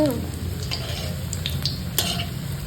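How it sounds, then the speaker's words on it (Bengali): Soybean pakoras fry in hot oil with a loud, continuous sizzle, broken by light metallic taps and stirring clinks from a utensil in the pan. "চলো ভালো করে ভেজে নিই দারুণ মুচমুচে হয়েছে"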